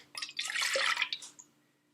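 Half a cup of water poured into crepe batter, a short close splashing pour lasting about a second and a half before tailing off into quiet.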